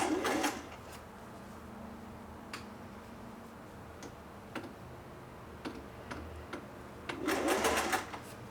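A Singer 401A sewing machine stitches in two short, close bursts of rapid mechanical chatter, one at the start and one near the end, with scattered light ticks and clicks in the quiet between.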